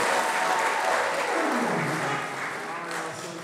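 A large audience at a youth conference claps loudly and continuously, the dense applause slowly easing off toward the end, with a voice audible over it.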